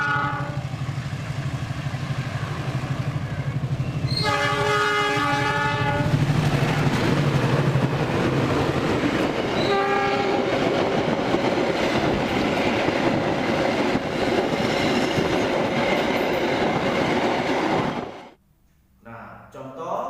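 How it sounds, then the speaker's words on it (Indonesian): A train passing close by, a loud sustained rumble of rail cars with clickety-clack wheels, a horn-like harmonic tone near the start and briefly again midway, fading sharply near the end. "Contohnya suara kereta api."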